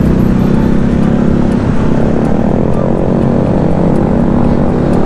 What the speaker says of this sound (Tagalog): Oh, traffic kaya ngayon.